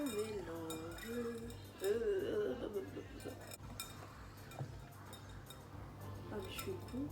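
Vegan cookie dough is stirred by hand in a bowl, with soft scraping, squishing and light clinks of a utensil against the bowl, while a person talks quietly over parts of it.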